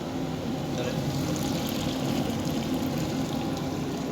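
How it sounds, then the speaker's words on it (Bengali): Broth from boiled fat-tailed sheep meat pours into a pot of rice in a steady, unbroken rush of liquid that keeps an even level for a few seconds. "মাংসের যে পানিটা সিদ্ধ করা পানিটা এখন দিয়ে দিব আমরা"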